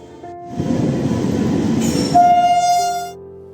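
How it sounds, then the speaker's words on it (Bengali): An Uttar Banga Express train pulls in at a station platform, its rolling rumble building up close and loud before a sustained horn blast sounds over it, then the noise fades. "ট্রেন যখন এসে গেছে আর দেরি করে লাভ নেই, চলুন উঠে পড়ি।"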